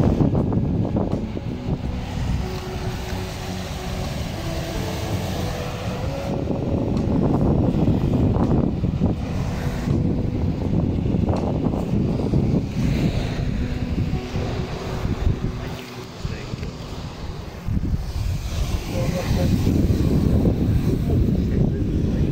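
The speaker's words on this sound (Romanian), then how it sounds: "Admirăm marea noastră frumoasă." Wind blows across a beach with sea waves washing in and out for about twenty seconds: a steady, broad, fairly loud roar with surging swells and gusty buffeting. No one speaks.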